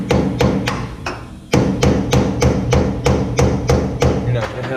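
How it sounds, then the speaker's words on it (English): A hammer strikes in rapid, even blows to split the nut on a Fox Live Valve solenoid cap of Ford Raptor shocks, about a dozen sharp metallic hits close up with one brief pause. "Basically what you're doing is just splitting the nut, getting it broke loose so you can get the solenoid off."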